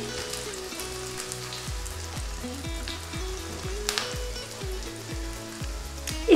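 Cashews and melon seeds sizzle and fry steadily in a pan while being stirred gently, with a continuous crackling hiss and soft scraping throughout.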